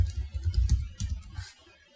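A short burst of keystrokes on a computer keyboard as a command is typed, several close, crisp clicks in quick succession before trailing into quiet.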